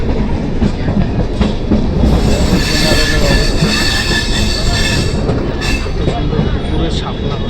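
A moving Shipra Express train in the morning gives a loud, continuous rumble of rolling wheels and carriage clatter, with high metallic wheel squeal running throughout, heard from on board.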